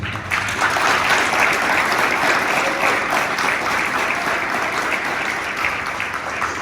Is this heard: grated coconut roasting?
no